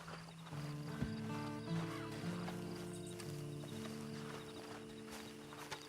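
A horse in Red Dead Online clip-clops and whinnies over a steady layer of sustained tones, the hoofbeats fairly close and continuous throughout.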